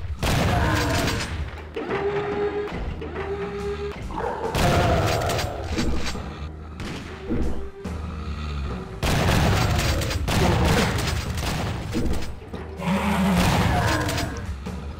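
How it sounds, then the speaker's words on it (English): Gunfire from the video game Doom, with repeated loud booming shotgun-like blasts and mechanical clatter that come in bursts across the span, mixed with game effects and occasional speech. "Don't shoot me with a shotgun!"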